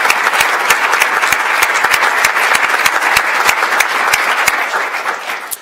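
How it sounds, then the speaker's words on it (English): Loud, sustained applause from a conference audience honoring the students at a civil rights summit, dense clapping with distinct nearby hand claps standing out throughout. "will you join me in giving all of the students a round of applause?"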